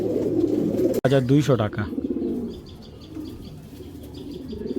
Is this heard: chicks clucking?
no